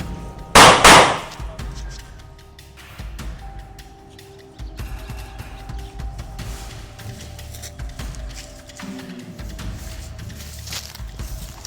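A single sharp gunshot cracks out near the start during a hunt for ducks in the mountains, loud and close, followed by quieter outdoor background noise, shuffling and faint movement.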